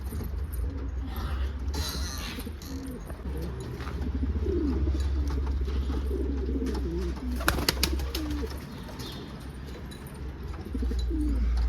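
Pigeons cooing in a garden, soft repeated low coos from nearby birds over a steady outdoor background hum, with occasional faint chirps and a brief jangle.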